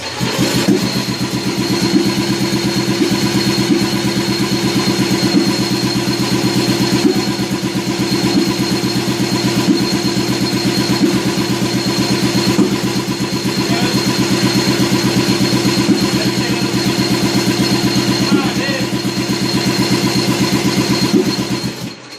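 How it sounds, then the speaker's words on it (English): A 1959 Riverside Silver Pigeon scooter engine runs on gasoline, loud and close, with a steady throbbing drone that holds almost unbroken for over twenty seconds. "I'm going to shoot gasoline in it this time. Open the throttle."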